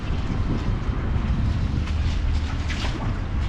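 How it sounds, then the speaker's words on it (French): Harbour water in Sète laps and sloshes against boats and the quay in a constant close wash, with some wind buffeting and no talk. "J'adore le clapotis comme ça qu'on attend."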